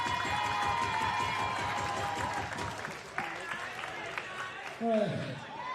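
Applause for wrestler Jordan Oliver at a Respect Wrestling show: sustained clapping from a crowd that thins out over a few seconds, with a commentator speaking over it.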